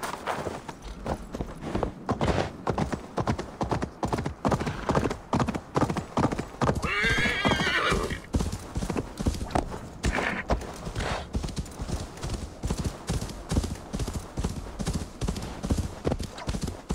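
Hooves clip-clop in a steady, brisk rhythm in Assassin's Creed Valhalla, and partway through a horse whinnies loudly before the walking continues.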